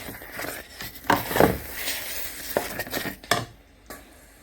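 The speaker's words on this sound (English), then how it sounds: "You're gonna make sure you stir it to the bottom so it doesn't start to burn" Thick low-potassium diet sauce is stirred right to the bottom of a pot, giving irregular close scraping and light clinks of the spoon over a faint simmer, with no talking.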